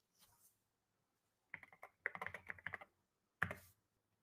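Typing on a computer keyboard in quick clattering bursts of keystrokes, separated by short pauses in a quiet room.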